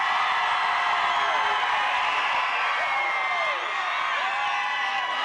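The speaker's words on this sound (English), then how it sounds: "Let me hear you cheer. Cheer for your kids." A graduation crowd on the home side cheers and whoops steadily, a dense roar of many voices with shrill yells rising above it throughout, loud and sustained without a break.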